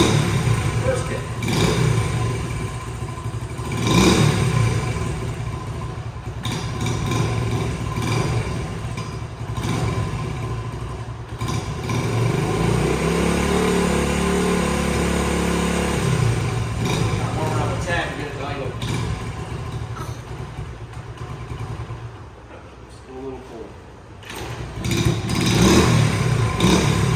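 A 3,000-mile 1971 Honda CT70H survivor motorcycle kick-started from cold, then running: a loud, close, uneven small-engine putter with some revving and mechanical clatter that settles toward an idle, with a person speaking over it at times.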